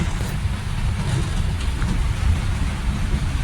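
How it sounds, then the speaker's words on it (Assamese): Heavy rain pours onto a waterlogged street in Guwahati, a loud dense continuous roar with deep rumbling underneath and no voices. "বৰষুণ দিছে খুব ধুনীয়া লাগিছে"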